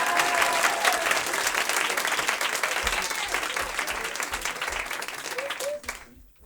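A concert audience in Lyon applauds a guitarist. The clapping is full and steady with faint crowd murmur and a brief vocal sound, and it fades out abruptly near the end.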